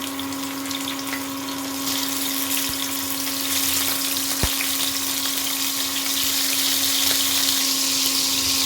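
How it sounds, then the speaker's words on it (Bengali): Shrimp coated in salt and turmeric fry in mustard oil in a kadai, giving a continuous bright sizzle and hiss with a steady background hum, one faint click, and no talking. "আমি এর মধ্যে নুন হলুদ মাখানো চিংড়ি মাছটা দিয়ে ভেজে নিচ্ছি।"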